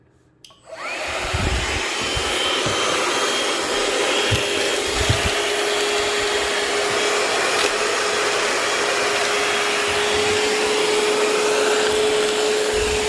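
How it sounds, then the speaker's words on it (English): A Shark VACMOP vacuum motor starts up after a brief pause and runs at a loud, steady whine, with occasional low bumps as it moves across a hardwood floor. "We're going to vacuum these up with the Shark VACMOP"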